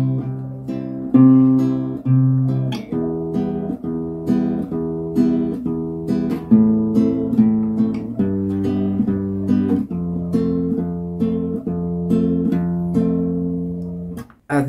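A steady chord progression from a song is strummed with a bass-strum right-hand pattern on a guitar or ukulele, evenly pulsing chords played close and clear for the whole stretch with no talking.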